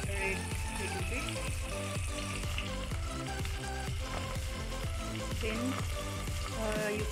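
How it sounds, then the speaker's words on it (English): Onion frying with cumin in a pan, a continuous close sizzle with occasional stirring scrapes, partly masked by steady background music and a brief word of talk. "And you should put onion. Here I put in the onion. Then you should stir it a little bit."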